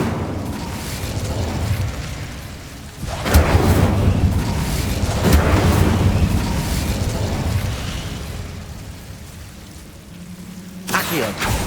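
An Incendio fire spell cast in Hogwarts Legacy, a loud whooshing burst of flame with boomy, rumbling swells that build and roll on for several seconds before a final sharp blast near the end.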